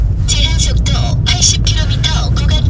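A driving-test car on a road hums with a steady low engine and road rumble throughout, while someone talks continuously over it.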